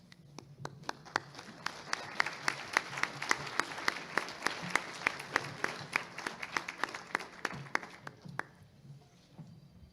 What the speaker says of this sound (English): We get another round of applause for our state degree recipients here